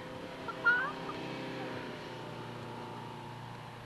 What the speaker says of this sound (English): Boys and girls, this is a chicken.